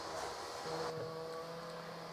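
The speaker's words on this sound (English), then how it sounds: "someone's decided to start up a 2-stroke engine of some sort" A two-stroke engine runs somewhere in the background, a faint, steady buzzing drone with a sustained tonal whine, distant and low in level.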